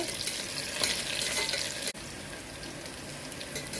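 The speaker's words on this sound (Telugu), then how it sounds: "ఉల్లిపాయలు ఎండుమిర్చి బాగా వేయించుకోవాలి." Onions and dried red chillies frying in a pan for dal soup, a steady broadband sizzle throughout with a brief dip midway, no voices.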